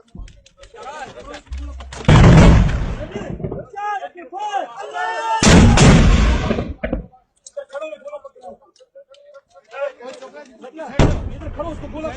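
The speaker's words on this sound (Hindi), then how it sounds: "Okay, fire. शाबाश, गुड मोटर।" Army mortar rounds fire in loud, sharp blasts outdoors, three heavy booms spaced several seconds apart, with men calling out and shouting commands between and over them.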